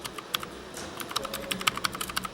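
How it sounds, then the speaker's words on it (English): Rapid, irregular clicks of typing on a computer keyboard at a gaming center in Mexico City, close and fairly faint, with bursts of keystrokes growing denser and sharper toward the end and no talking. "I think you can even hear the keyboard while I type."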